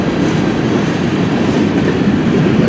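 The eastbound CN M384 freight train rolls past at close range near Port Huron, Michigan, a loud, steady roar of wheels and cars with no talking.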